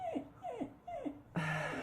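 A dog whimpers nearby in a quiet room, giving three short, falling whines at an even pace, then a longer, slightly louder whine.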